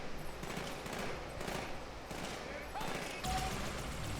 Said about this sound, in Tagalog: Nag-iiba yung tunog ng mga baril.